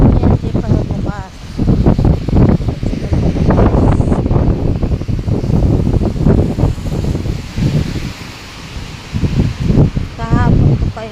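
Strong typhoon wind roars and buffets close to the microphone in Kaohsiung, Taiwan, as a steady rushing noise with gusty rumble throughout. Someone talks over it now and then.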